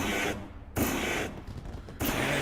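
Fireworks going off at Eldora dirt race track, heard as dense bursts of crackling and booming that come in loud clusters, separated by short quieter gaps, with no talking.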